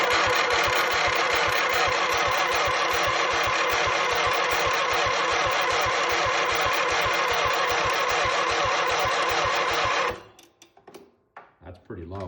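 A Craftsman lawn tractor engine that has sat for two years cranks over on the starter, giving a loud, fast rhythmic chugging for about ten seconds before cutting off, followed by a few faint clicks and handling noises.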